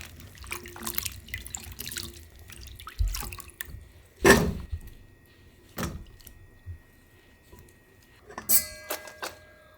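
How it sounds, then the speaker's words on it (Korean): Water splashes in short bursts over sliced tteokguk rice cakes in a kitchen bowl as they are rinsed, with sporadic drips and clatter between pours. "이렇게 떡쪽 썰은 거에다가 물을 좀 부으세요. 그래서 살짝 한번 헹궈 주세요."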